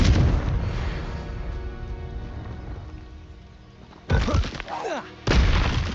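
Confringo fire spell explosions in the video game Hogwarts Legacy: a sustained rumbling roar fades, then two sharp, loud booming blasts burst about a second apart near the end.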